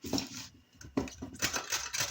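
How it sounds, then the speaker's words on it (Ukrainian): A carrot is rubbed against the large holes of a kitchen grater while making cabbage soup. Soft, quiet scraping strokes come in a loose rhythm, about four short rasping bursts, with no talk. "Моркву натру на велику терку."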